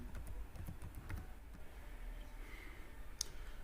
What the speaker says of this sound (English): Okay, let me type graphics.